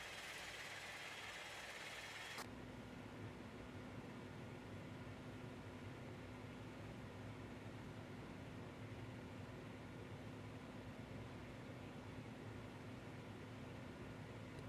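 Dash 8 (DH8D) turboprop engine in X-Plane 12 spools up after a soft cabin hiss, settling into a steady low drone with a constant tonal hum running throughout.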